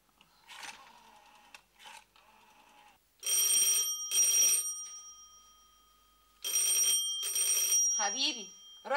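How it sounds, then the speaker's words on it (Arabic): A telephone rings in two loud, close double bursts of electronic trilling with long pauses between them in an Egyptian TV drama scene, with people speaking before and after the rings. "حبيبي رد على تليفون من فضلك"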